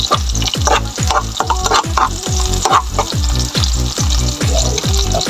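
Garlic fries for igado with a loud, continuous sizzle and a steady rhythmic scraping of a spatula stirring in the pan, close and alone throughout.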